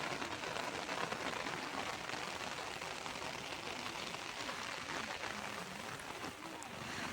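Steady rain falls on an open outdoor field where people are running, a faint, constant, even hiss with no breaks throughout.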